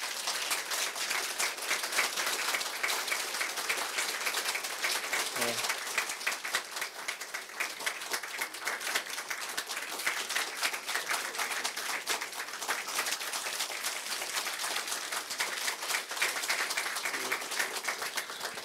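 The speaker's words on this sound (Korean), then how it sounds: "뜨거운 박수 좀 부탁드리겠습니다" An audience at a political campaign launch event in Gyeongnam, South Korea, claps continuously and briskly for a candidate, an even crowded patter of many hands with occasional voices underneath.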